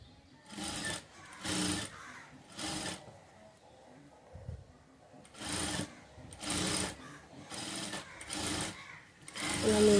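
A sewing machine stitches a blouse in repeated short bursts of rapid mechanical chatter, each lasting about a second, with quiet gaps and a speaker talking softly between runs.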